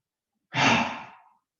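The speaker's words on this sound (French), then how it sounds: "j'inspire par le nez" During a yoga session, a single breath through the nose lasts under a second and fades out in otherwise silent surroundings, close to the microphone.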